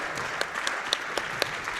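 Applause from a crowd at a live speedrunning charity marathon follows a large donation, a dense, steady patter of clapping that carries through the whole short stretch.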